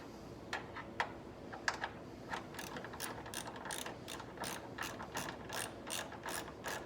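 Rapid ratchet clicking from tightening a battery terminal on a 2010 Chrysler Sebring, bursts of fast ticks building into a steady run of repeated strokes, close and clear with no talk.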